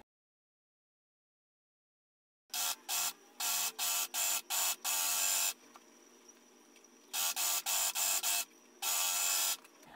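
A sewing machine stitches together the sleeve parts of a rugby shirt in short bursts of loud, close, buzzing whir separated by pauses, after a silent start.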